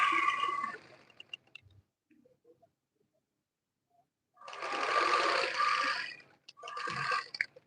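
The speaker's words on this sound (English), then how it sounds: "And I'll sew it up." A sewing machine stitches a sleeve seam in two bursts of steady rapid whirring, close and loud, separated by a few quiet seconds of faint handling.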